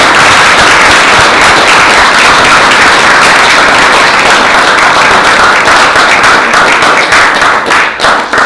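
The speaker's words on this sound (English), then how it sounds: "Let's give these guys a round of applause." A panel audience gives its guests loud, sustained applause, a dense steady roar of many hands clapping close by that thins out slightly toward the end.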